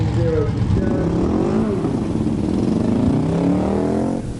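At a drag strip event, a nitrous-fed race car roars past with rising and falling engine pitch, loud and continuous, while an announcer talks over it.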